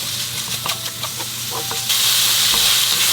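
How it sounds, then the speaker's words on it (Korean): Onion and minced garlic with a pinch of salt are stir-fried in olive oil in a pan, giving a loud close sizzle with scraping stirs that swells into a stronger hiss partway through. "양파가 투명해질 때까지 볶아주면 돼요."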